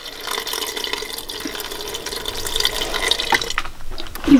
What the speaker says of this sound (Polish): wleję szklankę wody przy zamkniętym zaworze